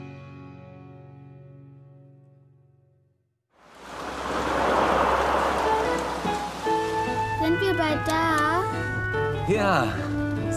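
Steady rain hisses on a surface in a German children's audio drama set in the mountains, with someone speaking and other voices over it, while music plays faintly beneath the downpour.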